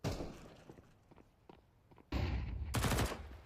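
Counter-Strike 2 gunfire in an esports cup match: scattered thuds and footsteps give way to two loud, close bursts of rapid automatic fire near the end.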